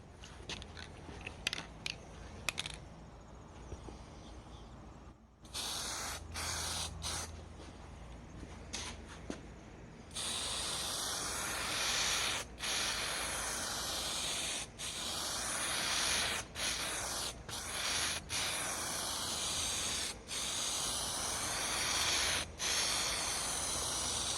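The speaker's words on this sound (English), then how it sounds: "So we'll spray this one up." Bursts of aerosol spray paint hiss onto a 2000 Eurovan interior trim panel, loud and close, in repeated long passes broken by short pauses, after quieter hissing at the start.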